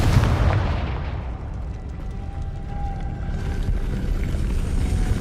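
Confringo explosion spell cast in the Hogwarts Legacy video game on PS4, a loud booming blast that rolls into a sustained rumbling roar and lingers for several seconds without speech.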